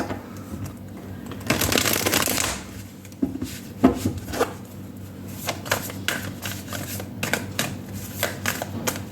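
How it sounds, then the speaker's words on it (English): Light Seers Tarot cards shuffled by hand in a quiet room, a long riffling burst followed by a run of short, crisp card flicks and taps, close and clear with no talking. "Pile number 1, I will shuffle your cards."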